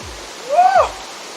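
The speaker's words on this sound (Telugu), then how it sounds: "చిన్న వాటర్ ఫాల్స్ అయినా కనీసం చూసినాం కదా" Steady broadband rush of a small waterfall flowing over slippery rocks, continuous and close, with a brief tonal whoop rising over it midway.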